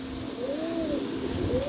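A pigeon coos in a loft, a single soft rising and falling call close by over low background noise.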